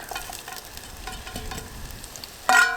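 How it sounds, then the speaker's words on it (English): Onions, shallots and chilies stir-fry outdoors in a Trangia 27 camping cookset used as a wok, giving a soft continuous sizzle with light stirring scrapes and a brief louder clatter near the end. "let's add onions, schallotte, chilies"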